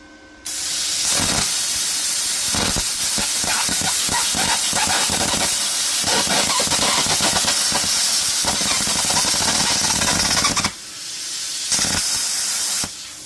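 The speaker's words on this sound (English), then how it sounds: "We're just going to see if we can slice this mild steel piece off." A Topshak TS-CUT40 40A plasma cutter slicing a mild steel piece cut from a shipping container: a loud, harsh continuous hiss and crackle that starts abruptly, holds for about ten seconds, then cuts out, followed by a short final burst.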